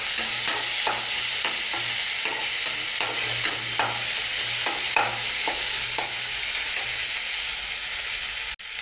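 Peas frying and being stirred into mashed tomatoes in a hot pan, a steady close sizzle broken by regular scraping strokes of the spoon, alone without talk.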